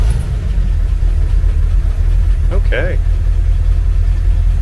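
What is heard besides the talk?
1957 Dodge Power Wagon engine starting and running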